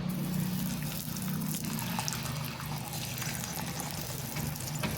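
Tomato paratha laid into a little oil in a hot kadai gives a steady, even sizzle and hiss throughout, close and continuous with no talk.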